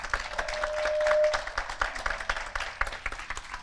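An audience at a holiday panel presentation claps in lively, steady applause, close and moderately loud, with a brief tone near the start and no talk over it.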